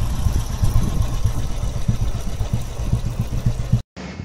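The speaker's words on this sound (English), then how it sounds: "It's a 350cc chassis with a 500cc engine, and he's poured another exhaust into it." A 1992 Royal Enfield Bullet motorcycle with a 350cc chassis, a 500cc engine and a changed exhaust, idling with a steady, thumping low pulse close by before a brief cutout.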